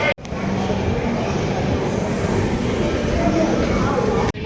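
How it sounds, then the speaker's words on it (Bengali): The Howrah–Mumbai Mail passenger train runs at speed, a loud continuous rumble and rattle of the carriage heard from on board, with voices faintly mixed in. "আমাদের ট্রেন এখন বিলাসপুর থেকে স্পিডে ছিঁড়ে চলে যাচ্ছে"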